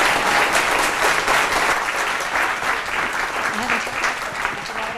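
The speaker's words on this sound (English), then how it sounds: "let's give them a good round of applause." Conference audience at a developmental education session in Oregon gives a steady round of applause, dense even clapping filling the room for several seconds without talk.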